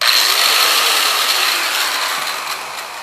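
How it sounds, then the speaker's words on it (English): A spinning grinding disc bites into metal with a loud, steady, harsh grinding whine that holds evenly for a few seconds and eases off only slightly toward the end. "You take a grinding disc"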